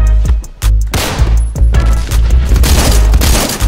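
Loud, dense gunfire rattles through a video game battle, with close booming shots and sustained bursts that fill the whole stretch almost without pause.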